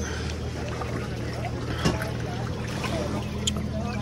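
Steady low engine drone and water wash of a small boat underway at low tide near Coron, with wind rushing across the microphone and a couple of faint knocks.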